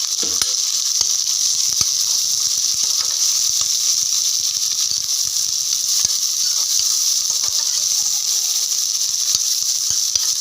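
Two onions frying in ghee for ghee rice, a steady bright sizzle and hiss with scattered small crackles and pops, close and even throughout.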